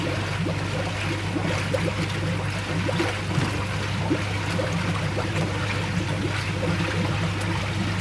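Water drains from a koi pond static-bed filter out through a waste pipe after a ball valve is opened, giving a steady, continuous rushing flow with a constant low hum underneath and no voices.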